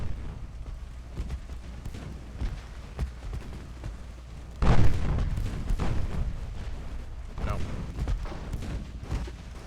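Naval guns firing armor-piercing rounds in the warship game Ultimate Admiral Dreadnoughts, a heavy boom striking midway and rumbling on, with further distant thuds and a steady low battle drone throughout.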